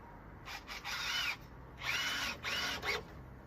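A power drill whirs in several short bursts, starting and stopping with brief pauses between, fairly close but moderate in volume.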